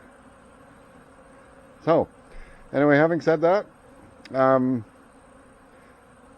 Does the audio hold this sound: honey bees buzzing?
yes